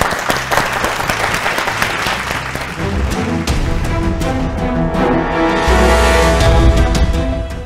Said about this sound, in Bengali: একটা জোরে হাততালি দুজনের জন্য